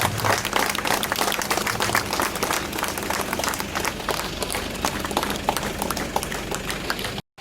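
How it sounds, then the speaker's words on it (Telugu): Players at a volleyball tournament held by a district police department clap together in dense, sustained applause to welcome officials, which stops abruptly at the end. "క్రీడాకారులందరూ చప్పట్లతో స్వాగతం పలకాల్సిందిగా కోరుతా ఉన్నాం"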